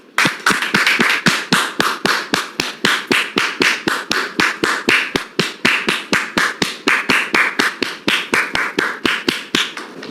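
A studio audience on a French talk show claps in unison to welcome a guest: loud, crisp, evenly spaced claps at about four per second, sustained throughout with no talking.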